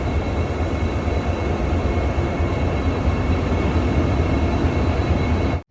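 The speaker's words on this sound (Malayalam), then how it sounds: "അഹമ്മദാബാദ് റെയിൽവേ സ്റ്റേഷനെ ലക്ഷ്യമാക്കിക്കൊണ്ട് ട്രെയിൻ കടന്നു പോവുകയാണ്" A train rumbles past close by, loud and steady with a broad roar throughout, cutting off abruptly at the end.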